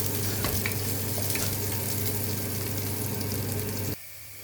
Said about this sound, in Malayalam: അപ്പോൾ 2 വറ്റൽമുളകും കൂടി ഞാൻ ഇതിലേക്ക് ഇടുകയാണ്.